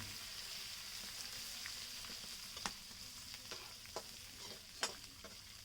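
Oil being stirred in a pan over a clay village stove as turmeric goes in for a koi fish curry: a steady soft hiss with scattered light scraping clicks and a sharper knock near the end, no talk.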